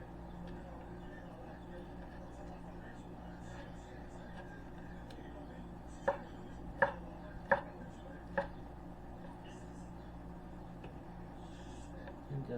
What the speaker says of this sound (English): just cube up your corned beef